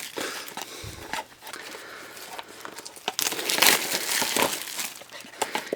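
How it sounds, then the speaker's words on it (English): Plastic wrap is torn and crinkled off a blind box, a close, continuous rustling and crackling with sharper tearing bursts midway. "In our blind box, get the plastic off."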